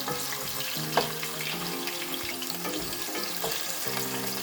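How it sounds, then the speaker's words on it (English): Chopped onion sautes in a pan for a fresh fish stew, a steady close sizzle with a faint low tonal hum underneath and a couple of brief stirring clicks. "Leave the onion to saute a bit or fry down a bit, and then go ahead with it."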